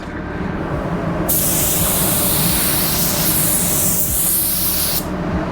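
A can of spray paint hisses in one long, loud, steady burst lasting a few seconds while a coat goes on, set over a constant low background rumble.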